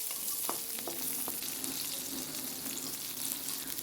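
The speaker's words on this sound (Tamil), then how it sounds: "ஒரு கை நிறைய சின்ன வெங்காயம் ஆட் பண்ணி நல்லா வதக்கிக்கலாம்" Shallots, ginger, garlic and curry leaves sauté in a pan for egg drop curry, giving a constant, close hiss of frying with a few light stirring clicks early on.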